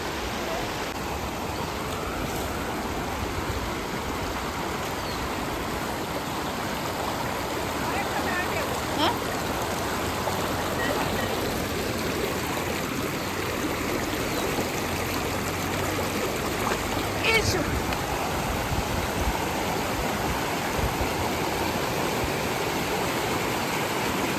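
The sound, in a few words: river water rushing against a rock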